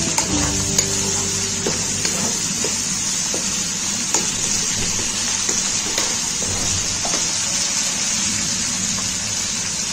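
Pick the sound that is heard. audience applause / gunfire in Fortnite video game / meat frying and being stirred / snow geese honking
meat frying and being stirred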